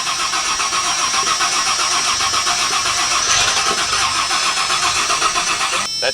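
A flood-damaged Rolls-Royce engine cranks steadily on its starter without catching, a continuous close, loud churning whir with no voices over it.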